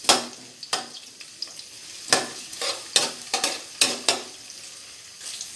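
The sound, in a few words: garlic and onion being stirred and sautéed in a pan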